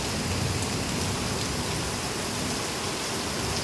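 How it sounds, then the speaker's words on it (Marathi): Heavy rain falls steadily in a dense, even wash of drops on surfaces, constant and close with no pauses or voices. "तिसरा पाऊस तिसरा पाऊस पडला आहे"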